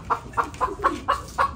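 A backyard free-range chicken clucks in six short, evenly spaced bursts, close and fairly loud, with no voices over it.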